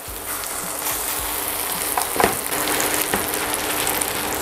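Burger patties fry in melted butter in a pan, a constant loud sizzle with a few sharper spits and scraping bursts as they are flipped, and nobody talking.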